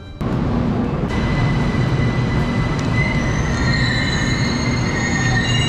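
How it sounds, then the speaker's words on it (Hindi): An underground metro train in Mashhad, Iran, rumbles steadily for the whole stretch, with thin high wheel squeals rising over the rolling noise from about the middle onward. "खैर मेट्रो में आ गया हूँ मैं"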